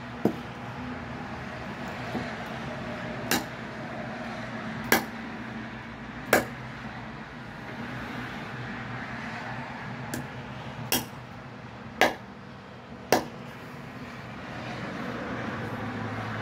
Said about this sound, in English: That was about 5 chops.